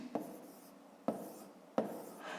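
A pen scratches across paper while a math exercise is worked out, three short strokes each starting with a sharp tap and trailing into a soft scratchy rub, close and quiet, with no talk.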